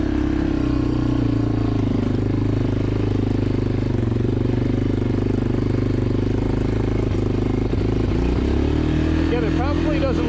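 A 1996 Yamaha Kodiak 400 4x4 ATV climbing a steep hill, its engine droning loud and steady under load close by, pitch rising near the end, while a voice talks over it.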